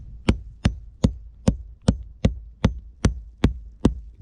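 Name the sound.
tapping on the roof to locate a rafter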